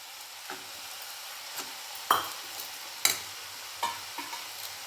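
Snake gourd stir-fry with coconut being stirred in a pan, giving a soft steady sizzle broken by a handful of sharp scraping clicks of the spatula at irregular intervals, close and fairly quiet.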